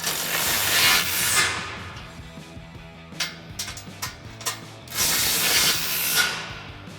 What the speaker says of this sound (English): So our 13 mil socket, we'll tighten these down.